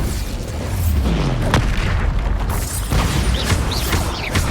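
Bombarda spell explosions in Hogwarts Legacy: loud, booming blasts with crashing debris in close succession, dense rumbling low end and sharp bursts over a chaotic combat din.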